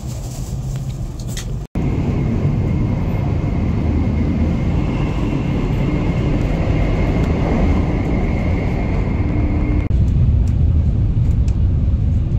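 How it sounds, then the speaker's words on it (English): A high-speed Shinkansen Nozomi bullet train in Japan rushes past, a loud, steady roaring whoosh sustained for over ten seconds after a sudden onset, heard close by with no talking. "See a high-speed train passing us. You will see how fast that goes."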